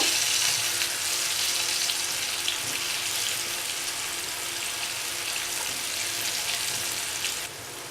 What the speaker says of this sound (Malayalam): ഇത് നന്നായിട്ട് മൊരിച്ച് തന്നെ എടുക്കുക.